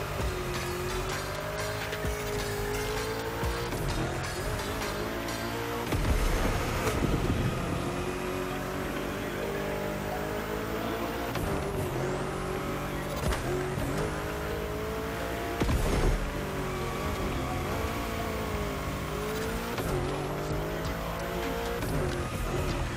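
A front-engine, rear-drive car with 953 hp and 1848 kg drifts through corners in a racing game, engine howling continuously at high revs with repeated tire squeals and shifting pitch, loud and steady with no talk.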